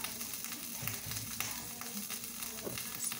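An egg frying in a pan gives a constant close sizzle with faint scraping from a spatula, steady throughout and without any talking.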